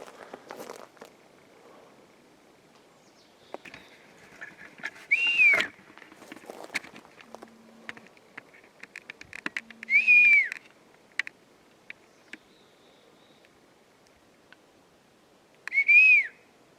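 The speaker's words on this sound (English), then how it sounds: "There was one that whistled there" Three short rising-falling whistles ring out in quiet Colorado woods, spaced several seconds apart, attributed to Bigfoot, with scattered footsteps, rustling and small knocks between them.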